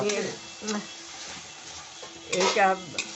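Ginger paste being stir-fried in a pan for an egg bhujia curry: a few brief spatula scrapes and stirs, strongest near the end, over a soft background with a voice present.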